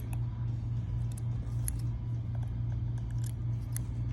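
Scissors trimming fluffy pieces, with several quick faint snips and clicks over a steady low hum, close and quiet.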